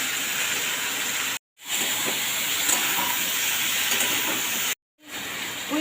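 Chopped eggplant, potato, taro stalks and ivy gourd tipped into a hot pan, hissing in a loud, steady, close sizzle that cuts out abruptly twice, with no talk.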